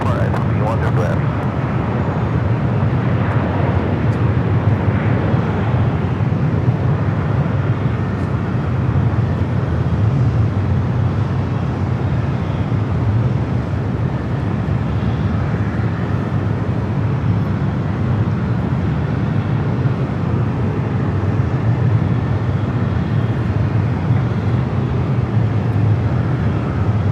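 Heavy jet airliner on final approach to land at Los Angeles LAX runway 24 right, behind a heavy Boeing 777, a steady loud broadband roar with a strong low rumble holding throughout, with faint radio talk underneath.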